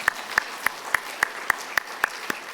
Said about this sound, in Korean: 하나님께 영광 박수를 돌립시다.